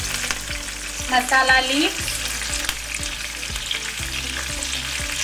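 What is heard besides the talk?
sautéing tadka spices in a pan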